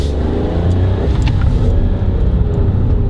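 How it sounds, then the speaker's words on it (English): A 2019 Toyota Aygo Xcite's three-cylinder engine revs hard as the small car accelerates, a loud, close, buzzy drone that climbs steadily in pitch with no talk over it. "It likes to be revved, this 3-cylinder."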